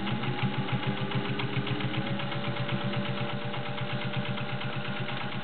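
A vintage Singer 201-2 sewing machine with a potted motor runs steadily, sewing a straight stitch through four layers of cotton with a smooth, even, rapid mechanical chatter that stays close and constant throughout.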